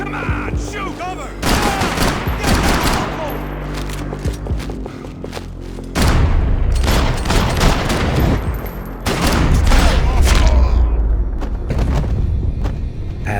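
Gunfights in the video game Max Payne 3: dense bursts of rapid gunfire with heavy booms and impacts, fading briefly and then resuming in loud volleys, with shouted voices mixed in.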